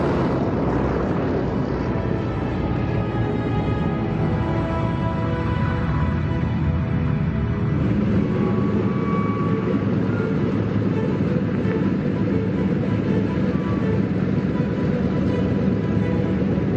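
Consolidated B-24 Liberator bomber radial engines drone steadily, a loud continuous throbbing hum with a slight shift in pitch partway through, no talk over it.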